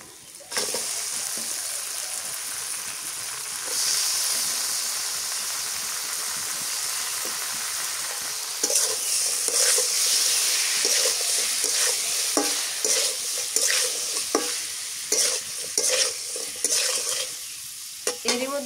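Tengra fish sizzles steadily in hot oil with fried chilli, onion and spices in a pan over a rural clay stove, with scraping stirs and clinks growing busier toward the end.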